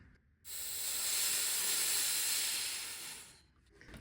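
Air released from a resin pressure pot holding hot resin, a steady loud hiss that starts abruptly, holds for about three seconds, then tapers off.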